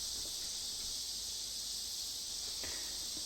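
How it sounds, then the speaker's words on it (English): Cicadas along Kentucky back roads keep up a harsh, constant high-pitched drone, steady and fairly loud with no pauses and no voices. "enjoying the harsh but familiar sounds of cicadas making their unique music"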